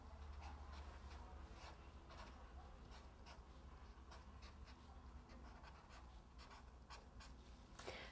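Marker or chalk writing on a board, short scratchy strokes repeating in an irregular rhythm, faint and close, with no talk.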